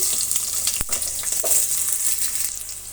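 Thick-sliced onions frying in oil with mustard seeds give a steady, bright sizzle, with occasional spatters and pops from the pan and no voices.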